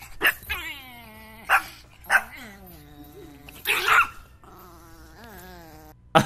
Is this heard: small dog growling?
yes